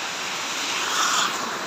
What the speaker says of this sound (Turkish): Antakya Harbi Şelalesi